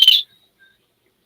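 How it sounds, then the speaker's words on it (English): A small survival whistle built into a flint fire starter gives one loud, shrill blast lasting about a quarter second, then falls silent. "You know, it's got a whistle."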